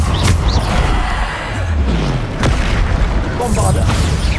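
Bombarda blasting spells explode in Hogwarts Legacy on Xbox Series X, a few booming bursts with sweeping whooshes amid the clamour of combat.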